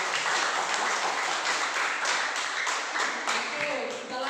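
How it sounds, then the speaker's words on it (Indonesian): Applause for group 4 in a classroom, a steady patter of many hands clapping together that carries on throughout and eases slightly toward the end. "Kepada kelompok 4 dulu kita berikan aplaus."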